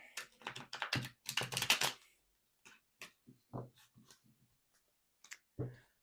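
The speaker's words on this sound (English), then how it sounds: "While I'm shuffling the tarot" Rapid papery clicks and riffling bursts come in uneven clusters, close and crisp, as tarot cards are shuffled, with quiet pauses between.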